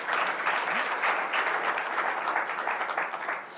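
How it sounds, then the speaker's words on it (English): A crowd at a carbon removal challenge finalist showcase applauds the sponsors, sustained dense clapping from many hands at moderate volume, no talk over it. "Round of applause for our sponsors."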